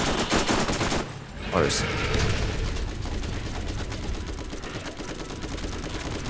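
Gunfire in the Borderlands video game comes as rapid, loud automatic bursts with mechanical clatter over the whole stretch, while players talk over the shooting.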